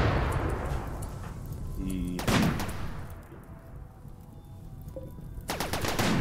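Sniper gunfire in the video game RimWorld: a few sharp shots stand out over a busy game soundscape, with a brief spoken word near the start.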